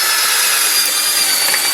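A drill grinds steadily through capacitor caps on scrapped electronics, giving a loud, continuous high whine that lasts the whole moment with no talk over it.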